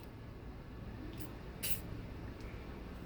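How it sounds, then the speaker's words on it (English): Quick spray of WD-40 lubricant while assembling a 1978 Yamaha Chappy LB50, a couple of short faint hissing bursts, one slightly longer, over a quiet room background. "just a quick blast of WD-40"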